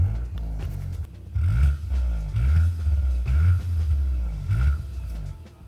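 A Skoda Octavia vRS hot hatch exhaust rumbles loudly through repeated throttle blips, with deep revving bursts and sharp popping crackles between them.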